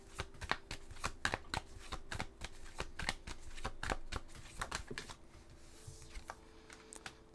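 Tarot cards being drawn and shuffled: a quick run of crisp, close riffling flicks and slaps that thins into softer rustling near the end.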